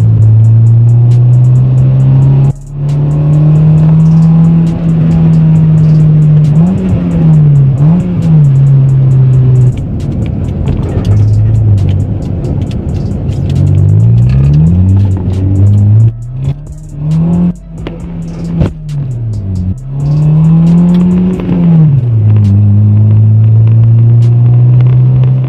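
A Honda Civic engine revs hard and steadily through drifting runs, its loud droning note rising and falling with throttle changes and briefly dropping out before climbing again.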